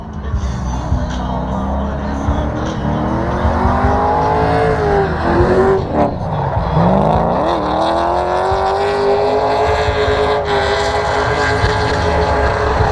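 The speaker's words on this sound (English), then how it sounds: "My guy right here in this S14 I was checking out earlier. Sounds like it has an LS in it." A Nissan S14 drift car with an LS engine revs hard at a drifting event, a loud, sustained V8 roar rising and falling in pitch over about thirteen seconds, close and continuous with faint crowd noise around.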